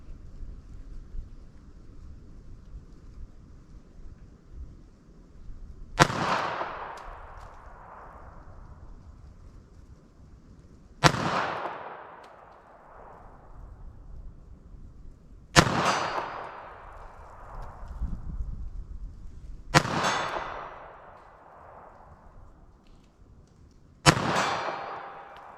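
Five loud .32 ACP pocket pistol shots firing Federal Hydra-Shok ammunition ring out a few seconds apart, each a sharp crack with a long echoing decay, between quiet outdoor background.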